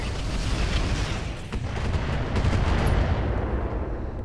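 Mech weapons in Roguetech firing in a dense barrage, rumbling booms and crackling shots blending into a continuous loud roar, with a sharp burst near the middle and no talking.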